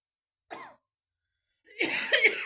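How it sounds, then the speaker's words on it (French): Two short coughs separated by a pause of silence, the second rougher and longer, close to the microphone. "excusez-moi pour la toux"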